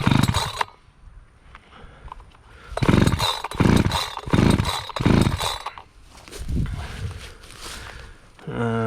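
A chainsaw being pull-started with the choke on, a series of loud, close starter-cord yanks with brief sputtering engine catches in a rough, uneven rhythm.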